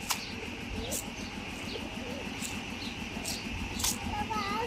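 Pigeons coo repeatedly at close range with occasional chirps and brief wing flutters, over a steady low background murmur.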